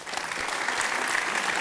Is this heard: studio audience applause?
yes